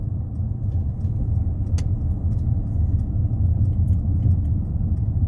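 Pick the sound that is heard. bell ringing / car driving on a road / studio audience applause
car driving on a road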